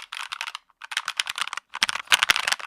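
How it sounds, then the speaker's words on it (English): Rapid bursts of typing on a mechanical keyboard, crisp clicky keystrokes in quick clusters with brief pauses, close and clear with no voices. "I like to go clickety clack, clack, clickety"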